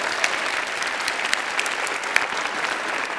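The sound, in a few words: audience applause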